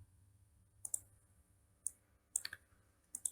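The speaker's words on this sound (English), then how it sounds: "double click on this one" A computer mouse clicks quietly in close pairs and single taps against near silence, several crisp double-clicks spaced irregularly.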